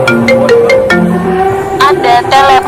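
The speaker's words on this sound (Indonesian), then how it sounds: "Ada telepon masuk." A phone ringtone plays loudly and close for an incoming call, a repeating melodic tone pattern sounding steadily without pause.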